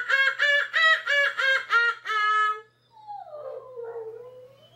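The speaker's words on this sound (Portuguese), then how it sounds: "a minha cachorra começou a chorar por causa do barulho" A dog whining and howling in response to singing: a run of loud, rhythmic pulsing vocal notes rising in pitch, then a wavering, fading howl-like whimper close to the mic.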